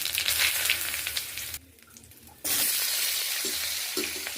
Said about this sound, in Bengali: তরকারিটা করতে প্রথমেই আমি তেজপাতা আর হাফ চামচ জিরে ফোড়ন দিয়ে দিলাম।